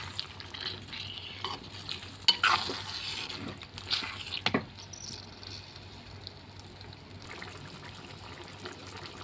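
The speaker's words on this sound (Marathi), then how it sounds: "घेतलेला जो भाजीपाला आहे तो मी याच्यामध्ये टाकणार आहे. हे कलसून घ्यायचं आहे, म्हणजे सर्व एकजीव करायचं आहे हे." Mixed vegetables stirred in a frying pan, with a soft steady sizzle and a few scraping clacks of the spoon near the start, then continuous low frying noise with no talk.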